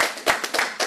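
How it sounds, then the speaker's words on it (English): A round of applause from a press conference audience before a championship boxing event, dense hand clapping with a few louder bursts across the whole second. "Let's give them a round of applause for putting this on here."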